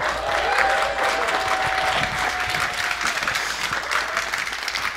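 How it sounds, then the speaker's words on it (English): Loud, sustained applause from a conference audience fills the hall, thick and continuous, with a faint tonal hum running under the clapping. "let's give a huge round of applause for TJ Woodward."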